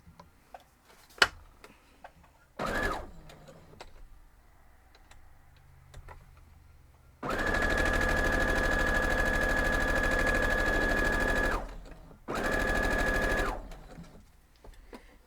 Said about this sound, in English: we're going to head over and sew this one side